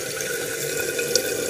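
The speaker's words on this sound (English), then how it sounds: "the reason that it's continuing to flow in there is because this fill valve here is not working" Water runs steadily into the overflow tube of an American Standard Cadet 3 toilet tank because of a faulty fill valve, a close, continuous hissing trickle with one small splash.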